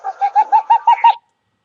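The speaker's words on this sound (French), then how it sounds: "lorsqu'on entend beaucoup l'écho et qu'on entend ce petit oiseau nous faire un son comme ça" A small bird gives a quick series of about seven clear, evenly spaced whistled notes, loud and close, in a morning setting with no other sound after it stops.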